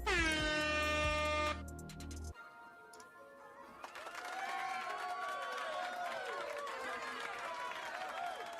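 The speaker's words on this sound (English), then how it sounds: "We got to definitely give you some" Air horn sound effects blare in a loud stacked burst for the first couple of seconds, then give way to a busier stretch of crowd noise and applause-like clatter that runs to the end.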